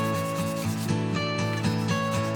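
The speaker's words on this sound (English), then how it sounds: "I spent quite a bit of time hand sanding here" A rusted high carbon steel Bowie knife blade is sanded by hand, with rapid rhythmic back-and-forth rubbing strokes, close and steady, and no talking.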